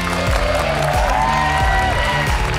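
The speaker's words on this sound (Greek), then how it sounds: "Θέλω να δώσετε ένα τεράστιο χειροκρότημα για το μοναδικό Αλέξανδρο Χαριτζάνη!" Studio audience applause and cheering welcome Alexandros Charitzanis onto a TV entertainment show, a steady crowd roar blended with loud rhythmic music throughout.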